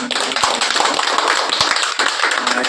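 An audience gives a film director a burst of dense, loud applause at a gathering honouring a workers' association, a close, continuous patter of many hands clapping.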